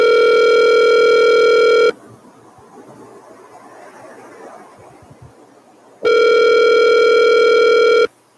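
A telephone ringback tone sounds as a loud, steady electronic tone for about two seconds, gives way to a quiet line with faint background hiss, then returns for another two-second burst.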